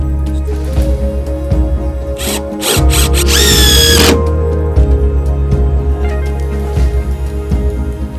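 Power drill driving outdoor screws into a planter box, with a loud close whir that rises into a brief high squeal as a screw seats, over a steady low background hum.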